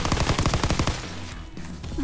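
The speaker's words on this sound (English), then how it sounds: "I'm using a submachine gun in this one" A PPSh submachine gun in Call of Duty WWII fires a fast, loud burst of evenly spaced shots for about a second, then cuts off into lingering echo and game ambience.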